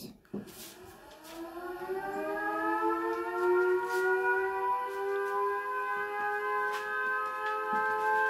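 A civil defense siren winds up from a low start and holds a steady, loud wail for several seconds, its rising tones sustained over faint background noise.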